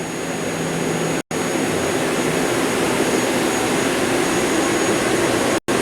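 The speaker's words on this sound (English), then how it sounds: "this is the Bridgeport VMC3020 high-speed machining center." A Bridgeport VMC3020 high-speed vertical machining center with a GE Fanuc controller runs with a steady, loud, whooshing whine and hum, interrupted twice by brief cuts to silence.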